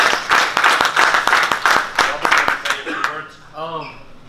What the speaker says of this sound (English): So a big applause for Robert Easter